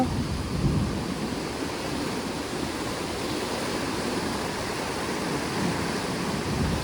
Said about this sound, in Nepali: पानीको साउन्ड कस्तो दामी सुनिन्छ होइन।